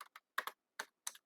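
Computer keyboard keys tapped in five quick, separate bursts with short gaps between them, close and fairly quiet in an otherwise silent room.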